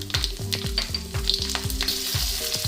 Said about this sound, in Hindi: जीरे का और राई का तड़कना बहुत जरूरी है